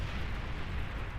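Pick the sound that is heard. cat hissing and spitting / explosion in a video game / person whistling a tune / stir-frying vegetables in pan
explosion in a video game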